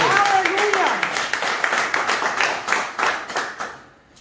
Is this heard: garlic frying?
no